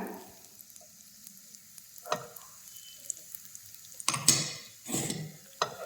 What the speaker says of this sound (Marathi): अशी छान तडका फोडणी आपण करायची आहे